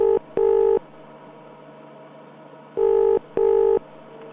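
A landline telephone ringing tone sounds in two double-burst rings, each pair of short warbling tones separated by a long pause, clear and steady over faint background hiss.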